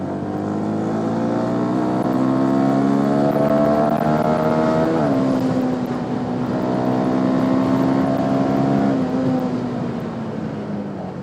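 A CFMoto NK 250 naked sports motorcycle hums steadily while being ridden. The engine note dips and shifts around a gear change midway, then holds a smooth, sustained drone with no talking.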